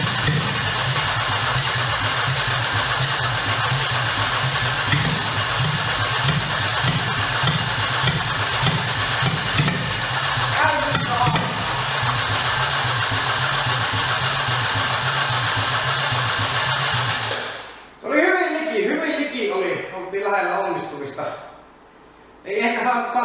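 A Mercedes-Benz W126 S-Class starter cranks rhythmically for about 17 seconds before the engine catches; a voice then speaks over the rough idle.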